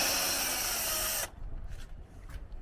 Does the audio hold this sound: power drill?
yes